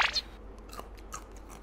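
A spicy 7-Eleven snack from Thailand is bitten and chewed close to the mic, a sharp crunch at the start followed by softer, scattered chewing bites, no talking.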